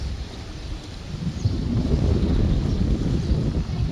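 Strong wind buffets the microphone outdoors, a continuous low rumbling roar with gusty swells that grows slightly stronger toward the end, with no talking.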